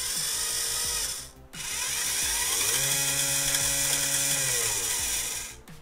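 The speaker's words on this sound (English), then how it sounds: "So when I turn this potentiometer, the motor turns." A 12-volt DC motor with an encoder whirs loudly and steadily, dipping briefly, then its pitch climbs and holds higher before cutting off near the end.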